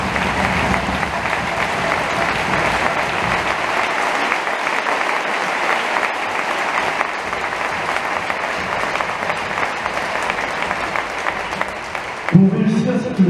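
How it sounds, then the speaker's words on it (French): Sustained, dense applause from an audience at a basketball club's end-of-season event, steady and loud for over twelve seconds before fading out, with a voice coming in at the end. "je crois qu'on peut vous applaudir bien fort."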